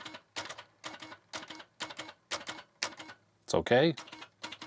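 Keys on an Atari 800XL keyboard with repaired key switches are pressed in a series of crisp clicks and taps in short irregular bursts, close up, with someone talking briefly between them.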